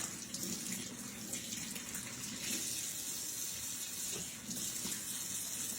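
Tap water runs steadily into a kitchen sink and down a drain fitted with a small strainer catcher, rinsing flour off hands; a continuous, close, even splashing hiss with no talk.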